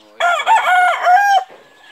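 A single rooster crowing, a loud, close, drawn-out cock-a-doodle-doo of about a second on a Pampanga gamefowl farm keeping sweater and golden boy breeds, fading into quiet.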